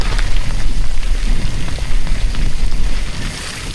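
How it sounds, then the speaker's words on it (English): Heavy rain pours down outdoors on a wet day in the North Wessex Downs, a dense, steady hiss of drops drumming on surfaces, loud and close with no break. "It's absolutely pelting it down."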